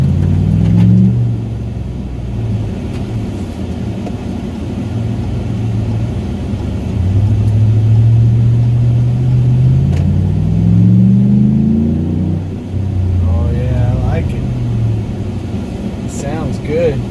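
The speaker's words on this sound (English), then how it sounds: "That good Flowmaster rumble" Car engine fitted with a K&N cold air intake and Flowmaster exhaust rumbles steadily at low pitch during a test drive, swelling as the throttle opens mid-drive, with people talking over it.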